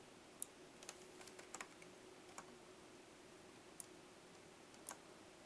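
A computer mouse gives faint, sparse clicks during 3D UV-mapping work, several single taps spaced irregularly over a quiet background.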